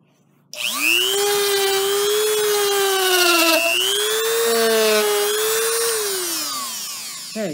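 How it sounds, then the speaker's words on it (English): A WEN 2305 rotary tool sanding grooves whines loudly and steadily at high pitch, its motor tone sagging and recovering a few times under load before it winds down at the end. "Okay, so definitely can sand. Has made some pretty nice deep grooves."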